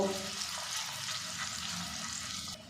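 Thin rounds of potato and tomato batter fry in hot oil with a steady, soft hiss of sizzling that holds evenly and then drops off at the very end.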